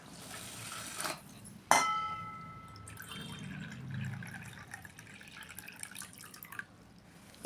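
Soft pouring trickle of water from a measuring cup onto rice, with a sharp clink of the cup against a vessel, followed by quieter dribbling and small drips.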